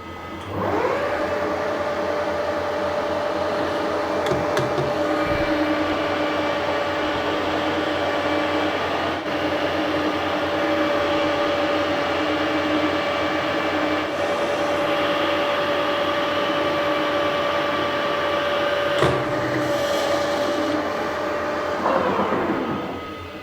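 A milling arbor being re-machined from INT40 to INT30 as a taper is cut down to a shoulder, giving a steady, close mechanical whine with a constant tonal hum that holds for about twenty seconds before winding down.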